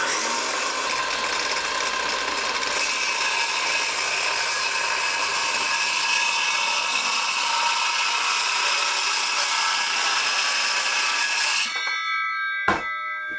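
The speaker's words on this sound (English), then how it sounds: "let's get started making a cross cut using a circular saw" A circular saw cross-cuts wooden boards, a loud, steady whining cut that runs unbroken for about twelve seconds before the blade stops abruptly and a short clunk follows.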